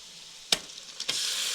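Marinated chicken for biryani hits a hot pan with a sharp thud, then a second drop sets off a loud, steady, close sizzle.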